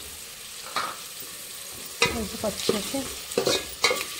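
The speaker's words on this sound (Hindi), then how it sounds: "जब तक ये हल्के से ब्राउन नहीं हो जाती तब तक हम इसको अच्छे से ब्राउन करेंगे, फ्राई करेंगे गाइस।" Ingredients sizzle in a pan while they fry to a light brown, with several sharp stirring scrapes and a short spoken remark over them.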